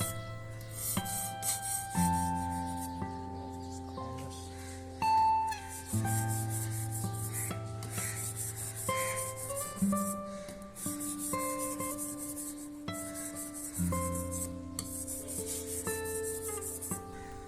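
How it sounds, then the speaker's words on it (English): A knife blade slides back and forth, flat on an oiled sharpening stone, in faint, steady rubbing strokes over a background of soft tonal music. "I place the blade flat and move back and forth."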